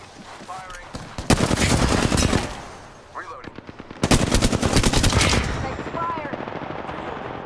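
Rapid automatic gunfire in the video game Apex Legends comes in two heavy bursts of close shots. A player talks between and over the firing.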